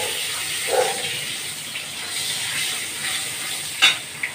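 Green chilies and five-spice seeds frying in a little oil in a kadai, a steady close hiss of sizzling with a couple of brief clinks and scrapes, no one talking.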